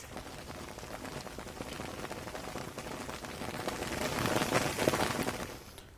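Heavy monsoon rain pours steadily in a district of Bihar, India, a dense continuous hiss of drops on surfaces that swells louder toward the end, with no voices.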